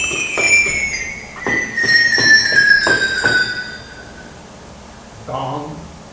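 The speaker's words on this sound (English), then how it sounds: "2 sleigh bells." Sleigh bells in the percussion chamber of a 1928 Wurlitzer theatre organ at the Fox Theatre, shaken in a string of about six bright jingling strikes over three seconds, close and fairly loud, followed by a brief softer sound.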